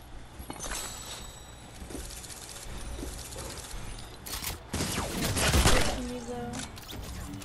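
Submachine gun spam in a video game, a rapid series of sharp bursts and cracks rising toward a louder cluster near the end, over a busy game-noise background.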